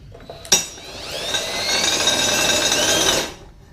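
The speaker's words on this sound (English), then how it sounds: "Now I can go ahead and drill that hole." A power drill whines up to a high, steady pitch while boring a hole in metal for solid rivets, then winds down after a few seconds, following a sharp click.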